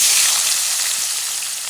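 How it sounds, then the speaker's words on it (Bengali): Loud, steady sizzling of onions frying in hot oil left from frying hilsa fish, a dense hiss that fills the whole moment without pause. "মাছ ভাজার তেলটা ছিল দিয়ে দিচ্ছি দিয়ে দিলাম পেঁয়াজ"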